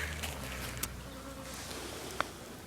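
Japanese honeybees buzz around a bee lure outdoors, a soft steady hum close by with a couple of faint clicks, quiet and without talk.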